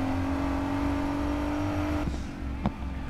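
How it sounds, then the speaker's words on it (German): A sustained Audi engine drone with a steady tonal hum in the Need for Speed Payback racing game; the sound stays loud and continuous, then thins out with a couple of brief clicks near the end. "Der Audi klingt jetzt nicht verkehrt"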